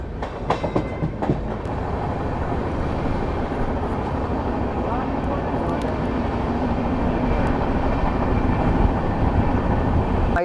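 The Gomti Express rolls out of Shikohabad Junction with a loud, steady rumble, a few sharp clanks near the start giving way to continuous rail noise heard from aboard.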